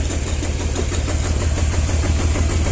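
A Honda Vario 110 motorcycle engine runs loud and close with an even, throbbing mechanical drone; the bike has an electrical fault that makes it stall when the horn or turn signal is used.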